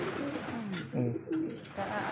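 Soft coos from a fancier's pigeons rise and fall over a steady murmur of outdoor background noise, a few rounded calls close by.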